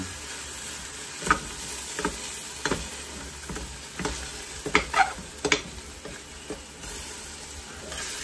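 Pork belly for sinigang fries in a pan with a continuous close hiss, while a utensil stirs and flips it in a series of sharp scrapes and knocks; no voices.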